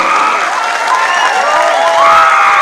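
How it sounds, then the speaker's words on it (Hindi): At a wellness company event a large audience applauds its CEO and managing director, loud sustained clapping and crowd noise with some cheering and shifting tones over it. "एक बार दोनों हाथ ऊपर करके जोरदार तालियां हो जाए"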